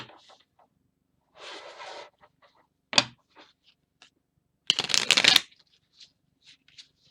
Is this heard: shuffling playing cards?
yes